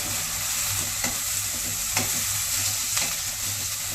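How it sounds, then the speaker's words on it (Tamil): Onions sautéing in melted ghee for gongura dal, a constant bright sizzle with faint periodic scrapes of stirring, close by, no voices. "நெய் உருகின உடனே வெங்காயம் சேர்த்து வதக்கலாம்"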